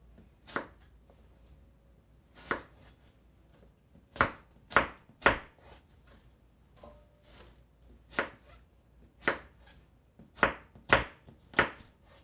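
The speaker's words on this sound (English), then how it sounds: "we're going to cut each slice into 3 separate pieces and just do bite-sized pieces" A knife chops Gala apple slices into bite-sized pieces on a board, about a dozen sharp, close cuts landing in an uneven rhythm over otherwise quiet surroundings.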